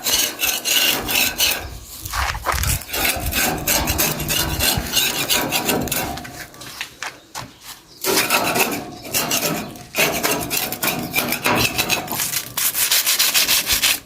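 Rough, scraping abrasion of sandpaper on an old weathered iron balcony railing, loud and close, in uneven strokes with short pauses between passes.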